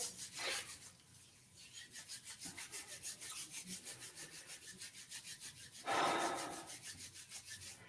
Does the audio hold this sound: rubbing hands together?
yes